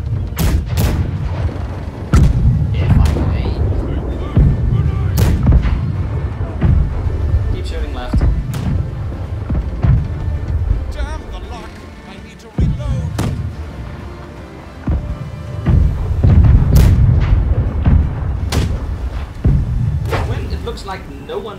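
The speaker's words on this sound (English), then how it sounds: "Left side cannons target Galleon." Ship cannons in the naval video game Blackwake fire at a galleon, scattered loud booms spaced through the stretch over steady rumbling, with voices heard at points.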